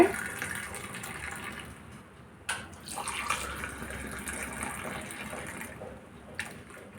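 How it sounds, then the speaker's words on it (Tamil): Masala tea is poured back and forth between vessels to froth it, giving a steady splashing pour with a few sharp spills, heard fairly close with no talking. "நுரை வரும்படியாட்டு நல்லா ஆற்றி விடுங்க."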